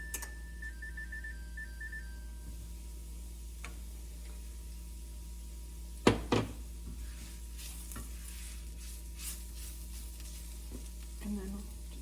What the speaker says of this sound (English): And give this another quick stir. Turn the heat back on.